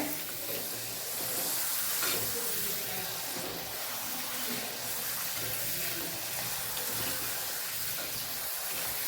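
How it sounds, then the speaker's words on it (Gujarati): Sweet potato chips deep-fry in hot oil, giving off a continuous, fairly soft bubbling sizzle that holds steady throughout with no speech. "આ ચિપ્સને આપણે સરસ તળી લેવાની છે"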